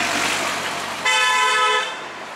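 A car horn sounds on a street, one sustained honk starting partway through and lasting nearly a second over background traffic rumble.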